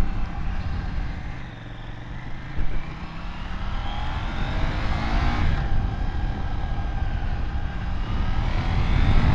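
KTM 790 Duke motorcycle engine running slightly lumpy at about 4,000 RPM and 30 mph, a steady loud drone under heavy wind rush with a brief rise in revs partway through.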